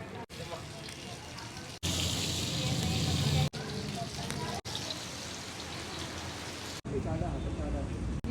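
Steady crackling sizzle of pomfret frying on a hot griddle over a wood-fired clay stove, close and continuous, with a few abrupt cuts and brief louder bursts.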